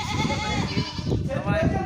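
Goats bleat in a wavering cry at morning milking for tea, with voices talking over a busy, close farmyard background.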